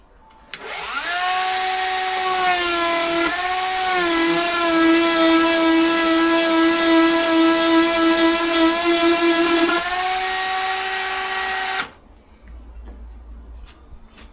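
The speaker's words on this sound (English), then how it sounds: "I'm just going to Dremel this out with a sanding bit on the Dremel" Dremel rotary tool fitted with a sanding bit grinding on a Volvo C30 part, one steady high-pitched whine of about eleven seconds with a slight pitch dip partway, close and loud, then cut off abruptly.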